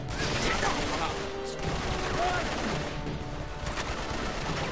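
Heavy rapid gunfire from Uncharted: Drake's Deception, dense overlapping bursts of shots under game sounds, loud and continuous throughout.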